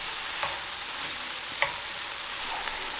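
Browned ground meat and one diced apple frying in a pan, a steady close hiss of sizzling broken by a few soft scrapes of stirring, with no talking.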